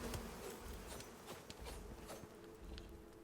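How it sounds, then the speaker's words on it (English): Bees buzz in a survival video game, with a low droning hum mixed with faint pattering and clicking game sounds, quiet and continuous with no talk. "the bees are constantly spawning in here"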